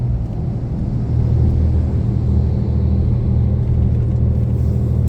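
A four-axle truck passes on a Russian road, a heavy low rumble that swells after the first second and holds steady, loud and close, with no speech.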